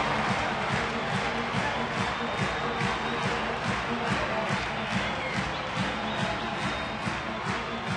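A baseball crowd of nearly 30,000 at Coors Field keeps up a constant roar through a Pirates–Rockies game, with rhythmic clapping or chanting pulsing regularly above the steady murmur.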